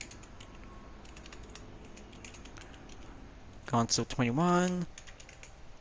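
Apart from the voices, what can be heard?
typing a message on a computer keyboard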